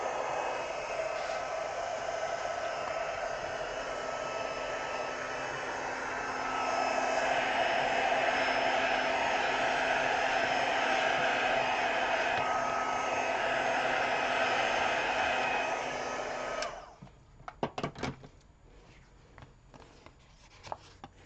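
A heat dryer blows steadily to dry a handmade card made with a heart layering die set, a loud continuous whoosh that swells slightly midway and then cuts off, leaving faint rustling handling sounds.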